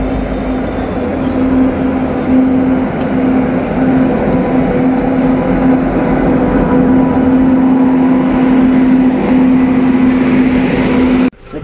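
Train pulling into a station track, a loud steady rumble with a sustained mechanical hum and rolling noise throughout, close by, no talk, cutting off abruptly at the end.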